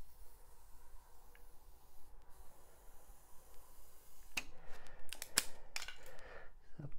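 Scenery material for a model railway layout is cut with scissors: after a quiet stretch, a run of sharp close snips and rustles follows in the second half, with no talking.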